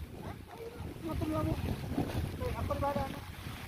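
Strong wind buffets the microphone outdoors with a steady, rushing roar, while people talk faintly beneath it.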